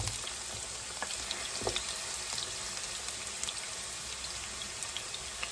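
Potatoes and onions fry in an overheated skillet, giving a steady, close hiss of sizzling fat with scattered crackles and pops across the whole stretch, no voices over it.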